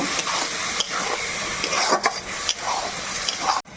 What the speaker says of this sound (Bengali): তো এবার খুব ভালোভাবে আবারও মিশিয়ে নেব